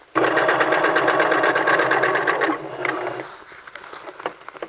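A sewing machine runs a steady, fast stitching burst on a men's vest seam at 5/8 inch allowance, loud and close, then slows and stops, leaving a few light clicks and handling noises at the end.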